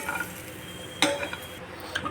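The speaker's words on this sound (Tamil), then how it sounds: "வெள்ளைப்பூடு நீங்கள் ஃப்ரை பண்ணுறப்போ அந்த ஈரப்பதம் போகிற வரைக்கும் கருகாமல் பார்த்துக்கோங்க" Garlic softly sizzling as it fries in a pan, with occasional stirring scrapes and a sharp clink of a utensil against metal, close by, no talking.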